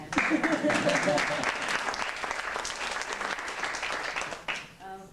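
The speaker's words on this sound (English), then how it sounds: "Yes, we can all clap to that." An audience claps at a theater Q&A after a production of The Indian Wants the Bronx, steady dense clapping over about five seconds with some voices mixed in, ending in a quick cutoff.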